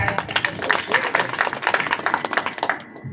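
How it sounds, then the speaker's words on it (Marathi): An audience claps for two people, a quick run of sharp, fairly even hand claps that comes through clearly before fading out. "दोघांसाठी टाळ्या"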